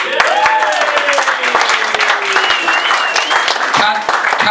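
Comedy club audience applauding the MC, dense clapping under a lively room with whoops and voices mixed in, sustained and close.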